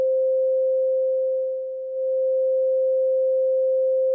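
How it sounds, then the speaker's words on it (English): A Casio MT-70 keyboard holds a single pure sine-wave tone, smooth and steady with no overtones, briefly dipping in level midway before returning to full strength. "A pure sine wave has no overtones at all."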